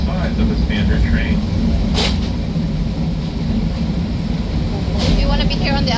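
A 30-inch narrow gauge zoo train rolls along its rails with a loud, constant rumble and rattle throughout, while people talk over it.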